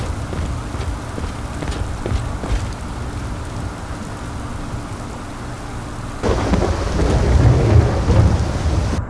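Steady rain hisses alongside repeated rolling rumbles of thunder in the Skyrim video game, growing heavier and louder toward the end.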